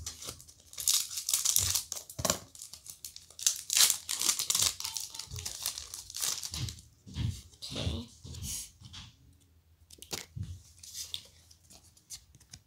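Close-up crinkling and snipping as scissors cut through a plastic Pokémon card pack wrapper, several uneven cuts mixed with rustling and tearing of the packaging.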